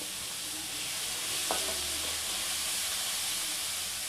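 Small onions sauté in a pan for a broad bean poriyal with a steady, even sizzling hiss throughout, close and fairly loud, broken once by a light utensil clink.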